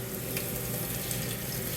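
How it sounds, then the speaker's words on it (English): Kitchen tap water pours steadily over pre-washed spinach in a sink, a continuous close hiss and splash with no talking. "So I'm just going to rinse this off."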